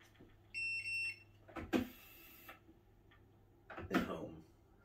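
An Ortur Laser Master 3 laser engraver gives a couple of short electronic beeps, close and clear, followed by mechanical clunks and whirring as it moves to home.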